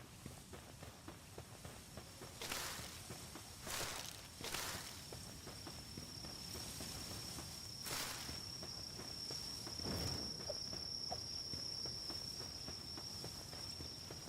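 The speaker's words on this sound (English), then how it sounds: "Does it sound like crickets out here?" Crickets chirp in Palworld as a continuous high, thin trill across the whole stretch, with footsteps crunching intermittently in the foreground at a walking rhythm.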